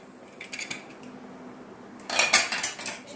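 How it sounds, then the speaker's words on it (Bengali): A metal tadka pan is set onto a kitchen stove while khichdi is being made: a few soft clicks first, then a brighter metallic clatter and scrape near the end, close and fairly quiet. "আর তড়কা প্যানটা বসালাম।"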